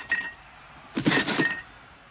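Glass clinks and shatters inside a package being shaken, two bursts of rattling broken glass, the second longer and louder, close up with no talk.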